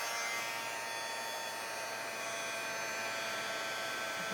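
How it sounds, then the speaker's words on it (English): A heat gun blows hot air to melt white embossing powder on a stamped image, giving a steady, even whooshing hum throughout, close and fairly quiet, with no talk. "So now we're going to go ahead and emboss it with your heat gun."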